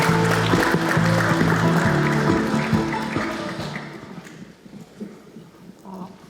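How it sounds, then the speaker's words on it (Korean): Applause from an audience at a signing ceremony for the Ulleung County Global Green Island project: a dense burst of clapping with rhythmic, tonal accents that gradually fades over several seconds, leaving faint scattered taps and room noise. "큰 박수 부탁드리겠습니다."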